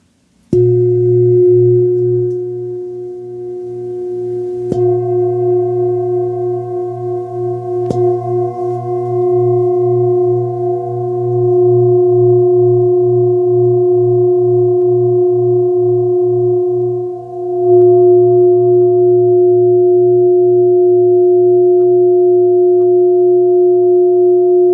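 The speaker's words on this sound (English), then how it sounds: "And this singing bowl goes and it goes and it goes." A singing bowl rings out in a long, steady sustained tone with a shimmering pulse, struck again about five and eight seconds in and once more near eighteen seconds, its hum carrying alone and loud throughout.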